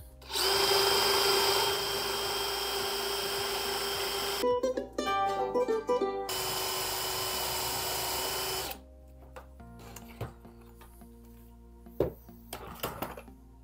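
A power drill with a fast, aggressive bit bores holes for a wall-hanging bathroom cabinet, running loud in two sustained bursts separated by a short rattling pause, then fading to scattered clicks and handling noise.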